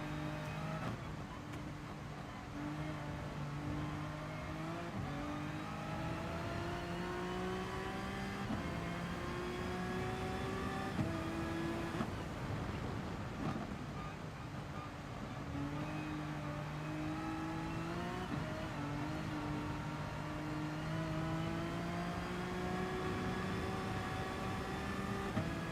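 A Honda NSX race car circles a wet Spa circuit in Gran Turismo Sport. Its engine revs climb repeatedly in a strong, continuous drone, broken by a series of gear changes.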